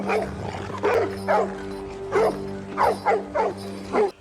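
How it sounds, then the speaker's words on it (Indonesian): A tracking dog barks repeatedly, with about eight loud, close barks coming in an uneven rhythm over a steady low hum and no speech. "di hadapannya ada anjing pelacak yang selalu menggonggong"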